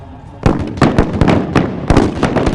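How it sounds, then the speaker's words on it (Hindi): Artillery cannons fire at an army day demonstration, a quick irregular series of about half a dozen sharp, loud booming blasts over a low background rumble. "The artillery fire is on"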